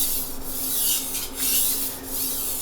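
A chef's knife rubbed back and forth on a 1,000 to 1,200 grit sharpening stone, giving a close, gritty scraping swish that swells and fades with each of about three strokes.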